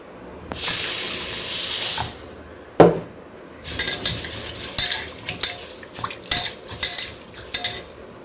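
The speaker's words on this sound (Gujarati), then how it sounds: "એમાં પાણી એડ કરી દઈશું" Water pours briefly into a pot of mixed lentils for soaking, with a steady rushing hiss, followed by a sharp knock and a run of clinking utensils and metal clatter.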